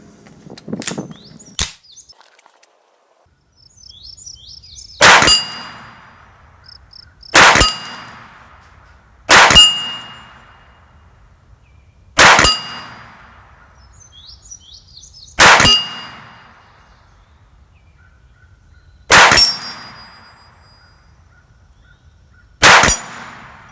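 .22LR rounds from a Ruger Mark IV pistol strike steel gongs at 50 yards, giving about nine sharp metallic clangs that each ring briefly, spaced a couple of seconds apart, with faint shots and quiet background between.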